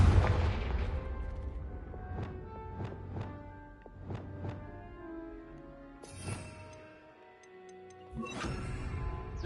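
Confringo explosive spell cast in the video game Hogwarts Legacy: repeated sharp blasts and bursts over sustained tonal game music and ambience.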